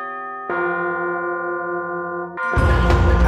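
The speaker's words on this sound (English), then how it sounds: "So that's a mixture of tubular bells mixed with plate bells." Tubular bells and plate bells ring together in a tribal-style game music cue, first as a sustained resonant chord, then joined by a louder, denser swell of metallic tones near the end.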